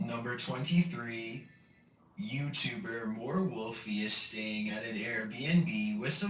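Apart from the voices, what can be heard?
No everyday noise stands out behind the speech.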